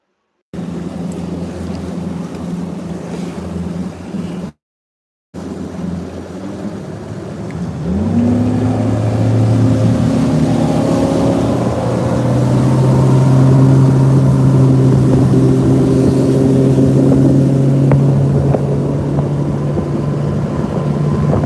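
A bass fishing boat's outboard motor runs on Lake Lanier. There is a steady drone with a short dropout, and then the engine rises and holds a loud, strained whine with wind rushing past.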